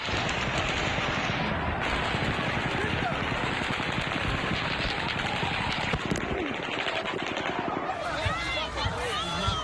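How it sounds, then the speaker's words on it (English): Rapid bursts of automatic gunfire ring out continuously during the 2017 Las Vegas mass shooting at an outdoor concert venue, dense and loud, with crowd noise and distant voices mixed underneath. "Seconds later, the rapid-fire shooting starts again."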